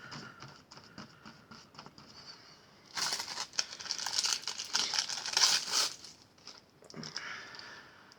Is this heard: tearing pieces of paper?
yes